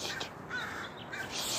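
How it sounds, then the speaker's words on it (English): Crows caw loudly near a pond, several harsh calls overlapping a busy, noisy outdoor background. "the birds are saying"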